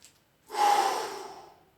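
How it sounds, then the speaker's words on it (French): One deep breath taken to recover after a strength workout, a single close, breathy exhale that swells quickly and fades over about a second. "2 ou 3 grandes respirations profondes. On récupère son souffle."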